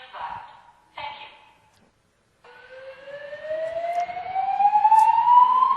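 A hotel early alert system alarm sounds a long electronic tone that rises steadily in pitch and grows louder, following a couple of short bursts and a brief pause.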